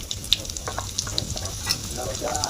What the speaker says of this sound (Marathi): इथं आपलं तेल गरम झालंय, तर आपल्याला याच्यामध्ये तेजपत्ता टाकायचा आहे